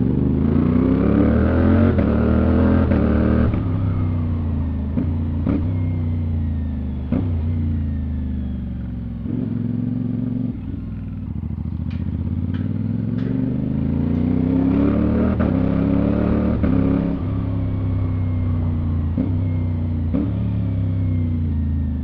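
A CFMOTO 450SR motorcycle engine revs hard through rising and falling sweeps, with quick-shifter gear changes cutting in as short breaks, loud and close throughout.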